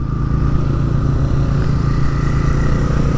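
Motorcycles riding slowly along a road on a group trip, a loud, steady close engine drone with a clattery edge and no talk over it.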